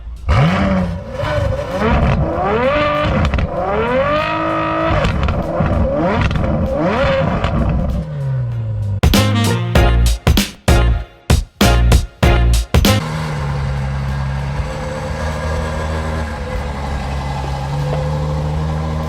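A 2016 Ferrari F12's engine revs up and down in loud, sweeping bursts, then cuts into sharp throttle blips before settling into a steady roaring drone.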